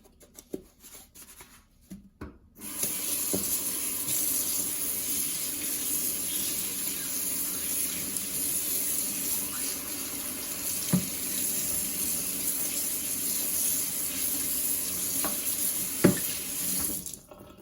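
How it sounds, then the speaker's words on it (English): A tap opens after a few faint clicks and then runs steadily into a sink while a new pizza dough roller is washed under it, a continuous close splashing hiss with small knocks, and no speech. "Once we wash it using soap for the first time"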